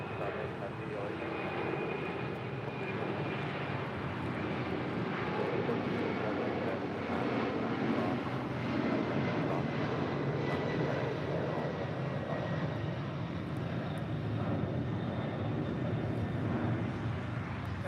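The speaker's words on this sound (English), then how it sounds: "Asiana Cargo heading to SFO in the 747-400." Asiana Cargo Boeing 747-400 departing LAX, a continuous rumbling jet engine roar from a distance, steady and moderately loud, with voices talking faintly underneath.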